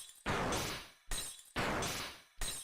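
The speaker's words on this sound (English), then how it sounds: "The glass bullets ruin it so much." Glass bullets shatter in the video game Undertale Yellow, three sharp, bright breaking crashes in quick succession, each ringing off in a tinkling decay before the next, with no voices over them.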